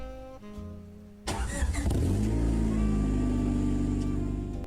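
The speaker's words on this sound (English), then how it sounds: "Let's take a look at the startup." A 2000 Honda Civic Type R coupe engine starts in a video game: a brief starter crank, then the engine catches with a loud burst and settles into a steady, smooth idle.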